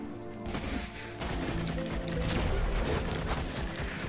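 Weapon secondary fire in the video game Risk of Rain, a dense continuous barrage of crashing, booming shots layered over game music, loud and sustained for the whole stretch.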